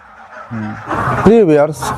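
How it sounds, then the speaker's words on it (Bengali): Ducks at a duck farm give a few loud, nasal quacks and honks close by, over faint farmyard background and a little talking. "হাঁসগুলো কতটুকু সুস্থ সবল আপনারা ভিডিও স্ক্রিনেও দেখতে পারবেন"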